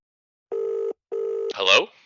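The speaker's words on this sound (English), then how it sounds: "the phone is ringing." A telephone rings on a switchboard setup, two clean electronic ring bursts in a row followed by a brief noisy burst, all against otherwise near silence.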